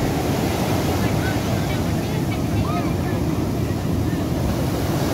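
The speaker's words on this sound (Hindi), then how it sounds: "वे वाली माइल्ड लहरें और अभी की स्ट्रॉन्ग लहरें, फर्क तो समझ में आ रहा है ना" Strong ocean waves crash and rush onto Baga Beach in Goa, a dense, continuous roar of surf mixed with wind buffeting the microphone, loud and close throughout.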